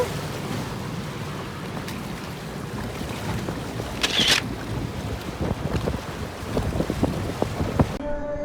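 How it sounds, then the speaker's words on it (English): Rushing water and wind buffeting on a log flume ride at Hersheypark, a steady churning wash with gusty microphone rumble, brief splashy bursts, and a sharp cut near the end. "We went on the log flume."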